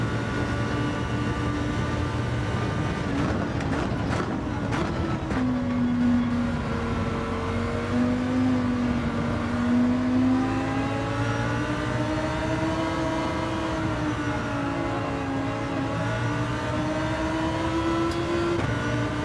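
A Lamborghini Huracan engine in the racing game Gran Turismo 7 drones steadily throughout, its pitch rising and falling with the throttle as the car laps, loud and close with no one talking.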